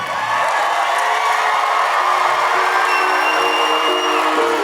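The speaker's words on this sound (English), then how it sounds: "You guys are gonna clap." Live audience at a comedy show in Richmond, Virginia clapping and cheering loudly, a dense continuous wash of applause with a roaring crowd.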